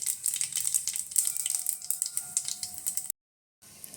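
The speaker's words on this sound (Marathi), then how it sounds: "आपलं तेल झालेलं आहे इथं गरम त्यात टाकणार आता आम्ही राई आता टाकणार जिरं" Mustard seeds and cumin crackle and pop in hot oil, a dense run of quick sizzling spits close by, cutting out briefly near the end.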